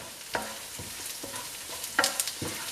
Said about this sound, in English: it's time to add the chopped tomatoes into this